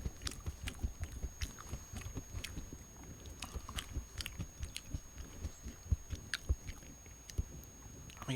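Chewing and eating a HelloFresh turkey meal with red onions and poblano spice, heard close to the microphone as steady wet bites and soft crunches repeating throughout, with no talking.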